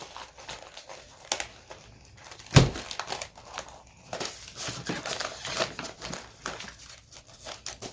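An empty chip bag is folded over and crinkled by hand, giving close, irregular rustles and crackles with one sharper crunch partway through.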